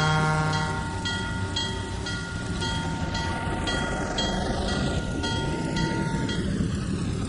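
A C&O freight train in the Trainz 2019 railway simulator pulls out of the yard at Hinton, with a steady close rumble, rhythmic rail clatter and sustained tonal whine running throughout, with no talking over it.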